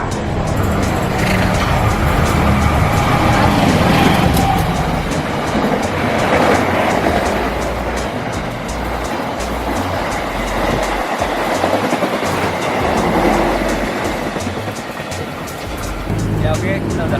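Train rumbling along the railway line right behind a spicy duck restaurant in Bekasi, a sustained clattering roar with rhythmic rail clicks, mixed with nearby voices talking.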